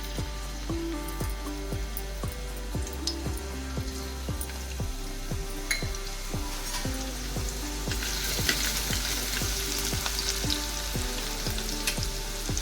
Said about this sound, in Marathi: तेल तापलं की मग आपण त्यामध्ये लसूण टाकणार आहोत